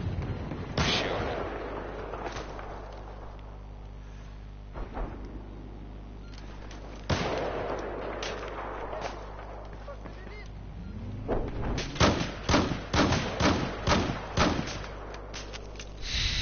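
Gunfire in the Battlefield 4 video game: loud isolated booming shots early on, then a dense run of rapid sharp bursts near the end, with a low rumbling battlefield backdrop.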